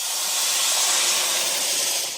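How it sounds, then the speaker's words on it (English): Loud, steady hiss of steam rising as water is poured into a hot pan of golden fried rice, sustained for a couple of seconds before easing off. "Careful, it's going to steam up on you."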